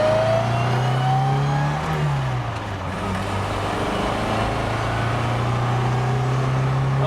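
A 1959 MGA Twin Cam pulls away in first gear, its engine tone rising, dipping and then holding a steady, loud drone nearby with no talking over it.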